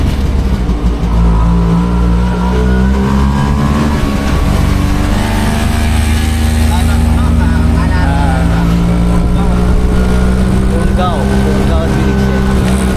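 An auto rickshaw engine labours up a hill road near Kalkadara, a loud, steady, close drone with a strained, slowly shifting pitch throughout.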